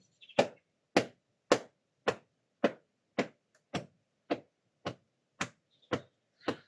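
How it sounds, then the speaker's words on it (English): Hands tap on a thigh twelve times in a steady, even pulse, each dull slap close and clear with nothing else around it. "you can tap on your thigh"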